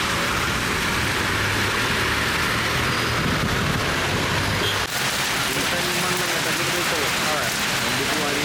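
Heavy rain pours steadily onto a waterlogged national highway during a strong thunderstorm, a loud, unbroken wash of dense rain noise throughout with a faint low rumble of passing traffic beneath.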